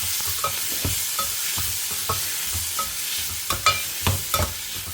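Tomatoes being sautéed for a tomato yogurt raita, with a soft continuous sizzle broken by repeated scraping stirs of a spatula in the pan, close and fairly even.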